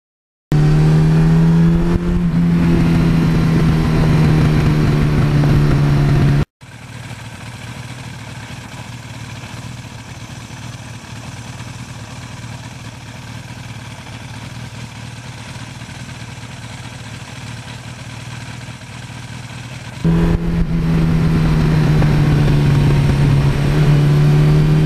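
Engine of a 1982 Suzuki GS1100E motorcycle with 76,000 miles, heard while riding: a steady, loud inline-four drone at constant speed. A wind-muffled stretch runs through the middle, and a clearer engine note comes before and after it.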